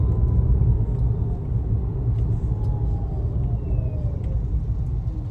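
MG Comet EV electric car driving in sports mode at rising speed, giving a steady low road rumble with a faint whine throughout, fairly loud and continuous.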